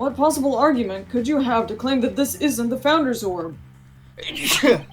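Someone speaks over quiet background music, then after a short pause a single sharp sneeze bursts out near the end, in a Phoenix Wright: Ace Attorney courtroom game.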